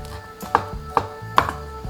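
A knife chops blanched, peeled shrimp on a cutting board in a few sharp, evenly spaced taps, close and fairly quiet, with no talking.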